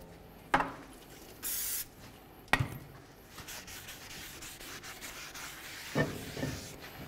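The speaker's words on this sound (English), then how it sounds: "a little bit of parts cleaner, and just clean down those braking surfaces right along here" Brake parts cleaner sprayed onto the braking surfaces of a 2014-2017 Infiniti QX50 front brake, heard as one short hissing burst between sharper handling knocks and clanks, close and fairly quiet, with no talking.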